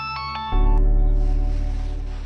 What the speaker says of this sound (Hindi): नाम लिया और फोन भी आ गया। चल फोन उठा।